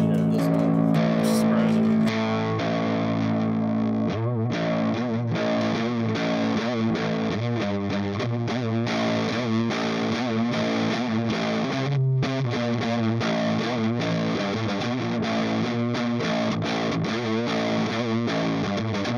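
Electric guitar in drop A tuning played through an Orange vintage-style distortion pedal, heavy sustained distorted chords and riffs filling the whole stretch, loud and steady.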